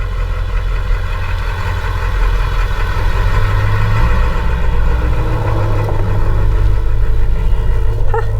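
A 1994 Ram pickup truck engine idles with a steady low rumble, close and fairly loud, holding an even tone throughout with no talk.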